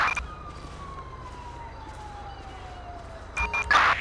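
A police car siren in GTA 5 wails steadily with a slowly falling tone under constant background rumble, ending with a couple of short radio-like bursts.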